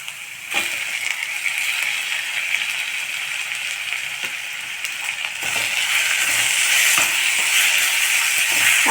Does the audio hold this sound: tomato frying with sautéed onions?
yes